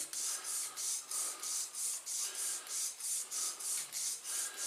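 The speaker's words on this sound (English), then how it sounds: "And this is just a plain bristle brush." Plain bristle brush scrubbing a Beretta pistol during cleaning, about a dozen close, soft, rhythmic back-and-forth swishing strokes at an even pace, faint and without talk.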